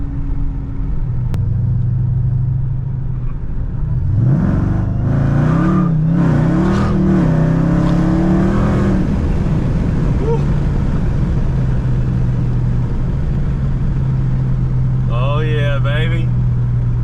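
A supercharged Dodge Hellcat engine revs hard in rising, roaring bursts, then settles to a loud, deep idle rumble, with people talking nearby.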